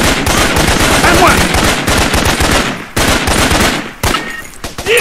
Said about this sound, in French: Il me tire dessus.